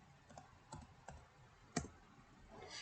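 Keys clack on a computer keyboard while a network command is entered in a Linux terminal, sparse individual taps with one sharper strike and a short burst near the end, quiet and close.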